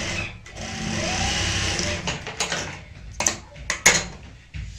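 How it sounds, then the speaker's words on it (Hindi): A sewing machine runs steadily for about two seconds stitching the base pieces of a potli bag together, then gives way to sharp clicks and handling knocks. "हम इस तरीके से रखेंगे और आपस में इनको स्टिच कर लेंगे।"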